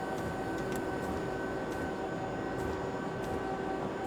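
Train in Dovetail Train Simulator 2022 rolling downhill, a steady broadband rumble with faint periodic clicks of wheels over rail joints, constant and fairly close throughout with no talk.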